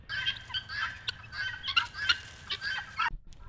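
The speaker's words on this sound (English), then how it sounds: "Birds." Domestic fowl on a self-sufficient homestead call in a busy, overlapping chorus of clucks and squawks, fairly close and steady throughout with a few sharper bursts, no one talking.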